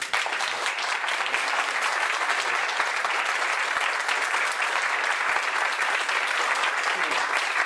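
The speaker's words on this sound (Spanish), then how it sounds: "Un aplauso para Ricardo." Sustained applause from a crowd, dense clapping that stays loud and even throughout.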